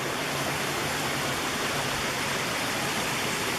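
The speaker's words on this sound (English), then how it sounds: "I finally reached the falls" A small waterfall on the Glen Onoko Falls trail rushes in a dense, steady roar, loud and close, unbroken throughout with no voices.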